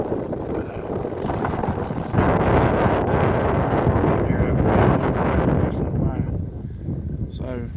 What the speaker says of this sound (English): Maybe this wind will lay down some.